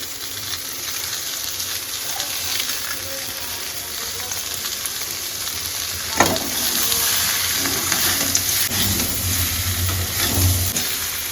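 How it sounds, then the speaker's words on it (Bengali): Vegetables for shukto sizzle steadily in a hot pan with salt, a utensil scraping and stirring through them, including a sharp clack partway through. No voices. "সব সবজিগুলো আমরা ভালো করে লবণ দিয়ে একটু ভাজা ভাজা করে নিয়েছি।"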